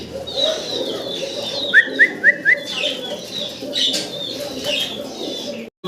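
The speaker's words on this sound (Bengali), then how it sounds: "আমরা একটা রেসার কবুতর দেখতে পারতেছি" Racing pigeons coo softly against background chirping, with a quick run of four sharp whistle-like notes partway through.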